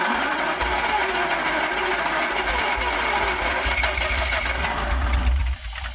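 A Daimler 250 V8 engine cranks steadily on the starter without catching, a continuous loud mechanical whirring that runs throughout.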